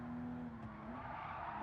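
Car tires skid and squeal under locked brakes while the driver tries to steer in a racing video game, Gran Turismo 7 or Forza Motorsport. A continuous screech rides over a steady engine drone, with no talk.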